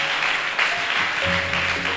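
A church congregation applauds during an evening worship service, steady dense clapping for about two seconds with faint sustained musical tones beneath.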